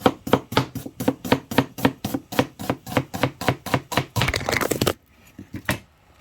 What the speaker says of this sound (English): I'm going to thinly slice that as well.